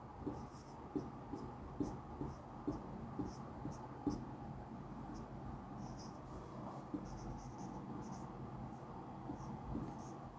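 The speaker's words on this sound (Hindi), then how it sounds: "इस जो वर्ड है इक्वेशन, इसके सभी लेटर्स को अलग अलग लिख लेते हैं" Pen on paper writing out letters one by one, faint scratchy strokes in short repeated bursts with brief pauses between them, set against a quiet room with low background hum.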